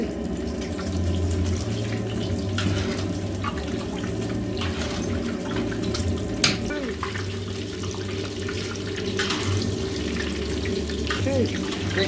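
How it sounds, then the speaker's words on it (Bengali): Batter-coated fish fries in hot oil for pan-fried Chinese-style chilli fish, giving a close, steady, dense sizzle with continuous fine crackle and one brief sharp knock partway through, under a low background hum. "এবারে এই হিট তেলে আমি মাছগুলোকে ছেড়ে দেবো আস্তে আস্তে করে"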